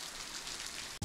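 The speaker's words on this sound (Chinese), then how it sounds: "哗哗的大雨尽情地清洗着光滑的石板路" Heavy rain pours onto a smooth stone-paved street in an old village lane, a dense steady hiss of drops ending with a sharp cutoff and a brief low thump.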